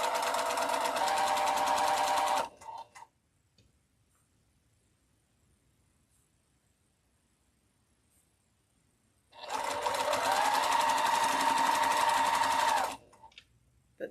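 Two bursts of sewing-machine stitching, each a few seconds long and fairly loud and close, separated by a long quiet pause; the steady whir rises slightly in pitch as the second run speeds up.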